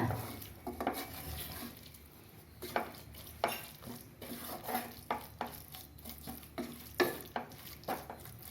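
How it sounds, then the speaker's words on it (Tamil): Masala cooked with yogurt sautés in a pan for mutton curry, with repeated spoon scrapes and stirring knocks against the pan over a soft, low sizzle, close and fairly quiet, with no talking. "இப்போ தயிர் ஊற்றி ஒரு நிமிஷம் வதக்கியாச்சு"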